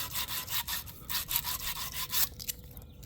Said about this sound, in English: So get your sandpaper, grip it. You want this thing sparkling.